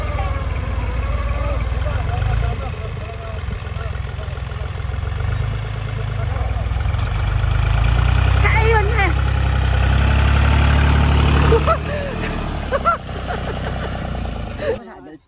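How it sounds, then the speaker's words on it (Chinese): A Mitsubishi tractor engine idles in a field with a steady, low, throbbing rumble that continues throughout, while people talk loudly over it nearby. "这个拖拉机这个是三菱"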